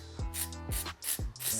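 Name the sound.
spraying a synthetic wig cap with a spray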